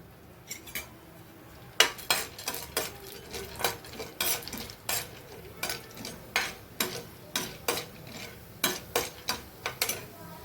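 Dried lentils, chana dal and urad dal, tossed in hot oil in a pan, heard as a regular series of sharp scraping stirs and clinks over a faint sizzle, close and steady, with no talk.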